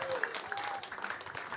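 Audience applause for contestant Joey at a live game show, a brief burst of moderate clapping with scattered whoops and voices mixed in.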